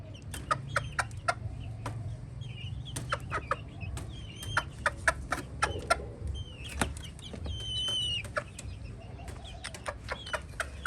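Chickens cluck in a farmyard coop where an injured mother hen is shut in. Frequent short clucks and calls come near and far over a low steady background hum, with no talking.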